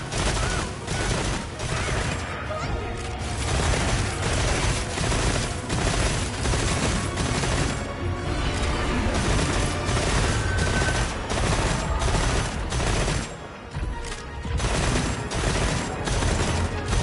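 Rapid-fire gunfire in a video game, dense sustained bursts of shots crackling continuously for most of the stretch, with brief lulls around two, eight and thirteen seconds, loud and close.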